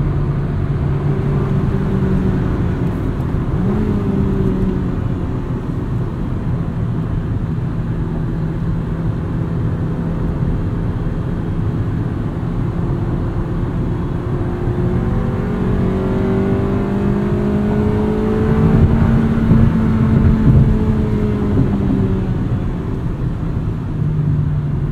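A naturally aspirated VTEC engine in a 1999 Honda Civic Si drones steadily under way, its pitch rising and falling smoothly as it revs through gears, heard from inside the car without talk.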